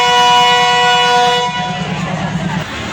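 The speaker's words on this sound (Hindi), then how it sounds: "लाहौर रेलवे स्टेशन से डिपार्चर कर रही है, 1:07 हुए हैं अल्लामा इकबाल एक्सप्रेस AGE 36017 के साथ" The Allama Iqbal Express, hauled by AGE locomotive 36017, departs Lahore railway station. A loud horn blast sounds for about a second and a half, then the heavy rumble of the moving train continues.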